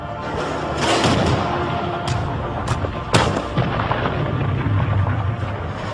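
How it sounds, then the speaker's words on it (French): An artillery barrage fires shells on a bridgehead in a documentary sound effect, dense rumbling with several sharp loud blasts and thuds scattered irregularly over a continuous roar. "Du 8 au 9 mars, elles tirent près de 3000 projectiles sur la tête de pont."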